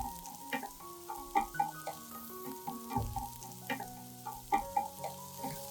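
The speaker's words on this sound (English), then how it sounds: "As the garlic and onion sizzle in the hot oil, they release a warm, savory aroma" Garlic and onion sizzle in hot oil while cooking, a quiet steady frying hiss with light clinks and stirring taps recurring at intervals.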